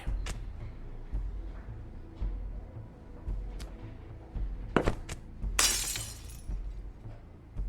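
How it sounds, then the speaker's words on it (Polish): A whisky glass shatters in the video game The Wolf Among Us, a bright crash of breaking glass with tinkling shards after a few quieter clinks and thuds over a low background. "Czemu rozbiłeś szklaneczkę?"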